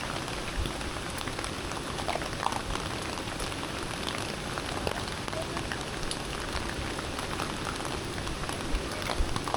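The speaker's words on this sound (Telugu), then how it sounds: "వర్షం అయితే మళ్ళీ పెద్దదైంది ఇప్పుడు." Heavy rain pours steadily during a bike ride through Wayanad, a dense, even hiss of drops spattering on surfaces with no letup and no talk.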